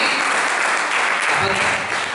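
Audience applause at a Jain religious discourse in Indore, a dense steady wash of clapping filling the whole stretch at close range, with a faint voice briefly surfacing underneath.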